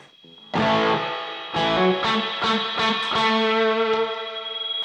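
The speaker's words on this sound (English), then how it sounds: "what I did there was I put the reverb after the amp" Distorted electric guitar through a multi-effects processor with reverb placed after the amp model, several loud sustained chords ringing out with a washy, spacious tail.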